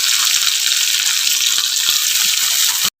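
Spices and mustard paste fry in a pan with a loud, steady, close sizzle that runs without a break for about three seconds, then stops abruptly.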